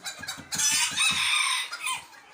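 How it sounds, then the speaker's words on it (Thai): A bantam rooster crows loudly and close by, a long strained call after a few quick clucks, with nothing else around it. "ไก่แจ้ส่งเสียงทักทายนะครับ"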